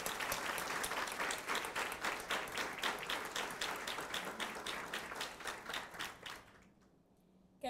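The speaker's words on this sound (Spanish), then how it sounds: "para quienes pido un fuerte aplauso" An audience at a hospital's liver transplant program anniversary celebration bursts into sustained, dense applause that fades out and stops near the end.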